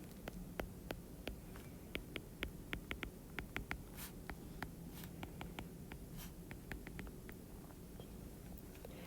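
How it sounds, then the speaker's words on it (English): Pen scratching on paper while working through an algebra problem, a steady run of quick close strokes and taps over a quiet room hum, with no talking. "so we're going to write the points on the line."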